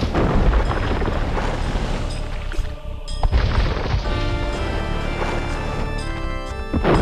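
Dense rumbling battle noise from Age of Empires 2: The Conquerors, with repeated deep booms of cannon galleon fire at sea, loud and continuous, with a sharp crash about midway.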